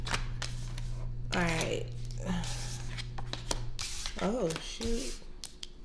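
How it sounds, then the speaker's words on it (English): A deck of cards is shuffled by hand in repeated quick, crisp riffling bursts close by, over a low steady hum, while a person speaks briefly between the shuffles. "I'm gonna be shuffling until the cards start coming out."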